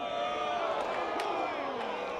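Crowd at a college baseball game between Tennessee and Ole Miss lets out a groaning, disapproving murmur, a moderate wash of many voices rising and falling briefly in the stands.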